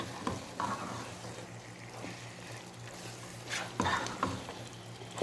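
Frozen peas tumble into minced-meat keema frying in a pan, a close sizzle with bursts of stirring scrapes and a soft patter as the peas land.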